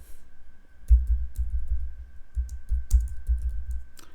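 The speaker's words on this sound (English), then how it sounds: "Okay, I'm just typing some." Someone types text into a PowerPoint presentation on a computer keyboard. Irregular bursts of soft key clicks and taps sound close by over a faint steady hum, with no talk.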